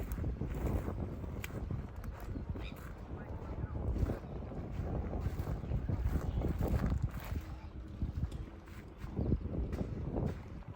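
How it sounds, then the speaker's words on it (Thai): Light wind buffets the microphone at a harbour in Denmark, a steady broadband rush with gusty swells and faint water and boat sounds beneath, continuous throughout at moderate level. "มีลมหน่อยๆ แต่ก็ไม่หนาวค่ะทุกคน"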